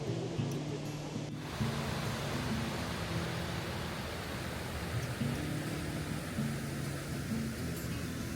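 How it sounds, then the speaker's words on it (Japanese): A small waterfall called The Sphinx, close to a parking lot in America's most visited national park, gives a steady, soft rushing of falling water that continues without a break, fairly faint and even throughout. "ザ・スフィンクスという小さな滝になります。"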